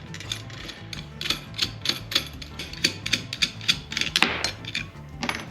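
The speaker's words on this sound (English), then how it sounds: "once that's loose, it's a simple case of unscrewing it" Old fuel pickup tube being unscrewed by hand from a fuel cell after loosening with a wrench, giving a close series of small metallic clicks and ratcheting scrapes in an uneven rhythm with no talk.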